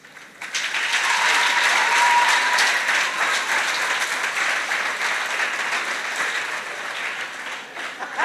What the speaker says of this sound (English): you can see they've given you a round of applause.